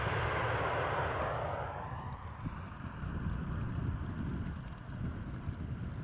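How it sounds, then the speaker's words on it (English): A Qatar Airways airliner on flight 273 from Doha arrives at Amsterdam Schiphol with a continuous broad roar that eases slightly after the first seconds, mixed with wind buffeting the microphone. "Here we have Qatar Airways flight 273 arriving from Doha"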